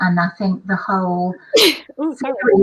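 A single sharp sneeze bursts out midway through a conversational author interview, loud and close, with talk continuing before and after it.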